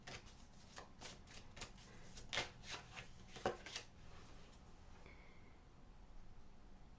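A deck of tarot cards is shuffled by hand in a quiet room, producing a quick run of crisp riffling bursts close to the mic before it fades into soft background hiss.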